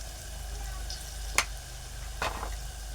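Masala and turmeric fry with a low, steady sizzle in a pan of garlic for amla dal, broken by two short scraping stirs with no talking.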